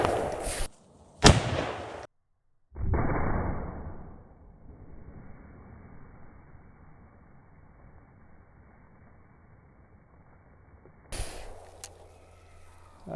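A .500 Nitro rifle firing a Woodleigh 450-grain bullet into water jugs booms loudly near the start, followed by a sharp crack and a long fading rumble, with another burst of noise near the end.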